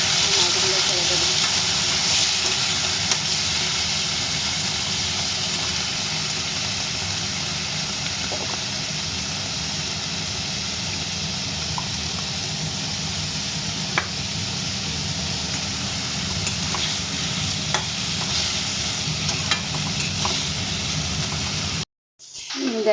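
Pabda fish fry in hot oil in a pan, a steady, continuous sizzle and hiss that carries on for over twenty seconds before cutting off briefly near the end.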